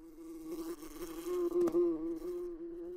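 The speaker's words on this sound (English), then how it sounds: "Those are bees!" Cartoon bees buzzing in a children's animated episode, a steady, close droning hum that swells and wavers slightly over a few seconds with no talk.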